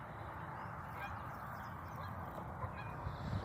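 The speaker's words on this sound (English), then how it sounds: "I don't know why they call them Canadian geese when they're never in Canada." A Canada goose honks amid steady outdoor park ambience, its calls faint and blended into a continuous wash of background noise, with no talking.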